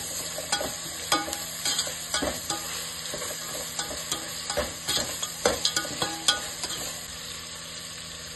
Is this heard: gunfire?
no